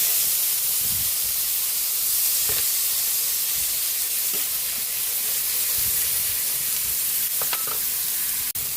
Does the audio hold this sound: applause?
no